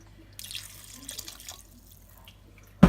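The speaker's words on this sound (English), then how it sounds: "I'm going to put a bit more liquid in actually." Liquid pours into a pot of curry goat in a soft, trickling splash over about two seconds, and a louder clunk of the pot comes right at the end.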